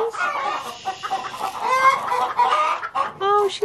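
Toulouse goose calling close by with repeated honks and clucking calls over several seconds, loud and near.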